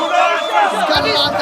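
Palermo rosanero supporters roar and chant loudly and continuously at a Serie C1 futsal match against Resuttana San Lorenzo, a dense indoor crowd din filling the whole moment.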